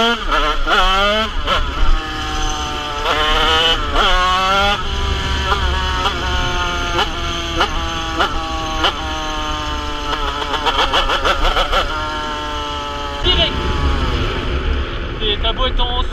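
A Beta 80 motorcycle two-stroke engine revs up and down over and over at close range, the pitch rising and falling in repeated pulls, with a voice talking over it.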